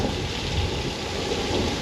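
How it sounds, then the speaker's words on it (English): Steady rumbling thunder with a rain-like hiss plays from speakers as a practical effect on a Hollywood studio tour, loud and continuous with no talk. "We have also strobe lights and speakers for thunder and lightning."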